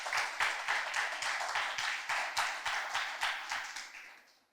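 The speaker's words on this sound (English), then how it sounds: "we ask that you give them another round of applause." A school debate audience applauding steadily, dense clapping that rises in waves and then fades out toward the end.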